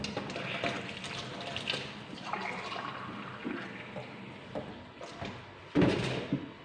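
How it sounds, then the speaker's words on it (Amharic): A full glass of water is poured into a pot at close range, making a steady splashing pour that ends with a short clatter of the glass or pot. "ይሄው አንድ ብርጭቆ ውሃ አንድ ሙሉ ጨምራለሁ።"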